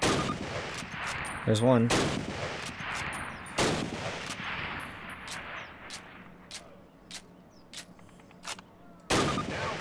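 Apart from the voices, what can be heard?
Springfield rifle gunshots in Call of Duty video game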